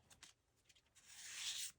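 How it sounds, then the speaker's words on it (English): A tarot card deck is shuffled close up: a few soft papery flicks, then a sustained bright riffle of cards lasting under a second, quiet and with no voices. "while I shuffled and cut the deck"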